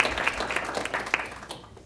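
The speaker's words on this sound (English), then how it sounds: "let's refrain from clapping" An audience at a board of education meeting claps in a dense burst of applause that quickly thins and fades out within two seconds.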